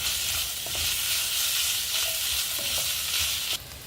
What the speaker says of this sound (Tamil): இதையும் சேர்த்து பச்சை வாசனை போகிற வரைக்கும் வதக்கிக்கலாம்.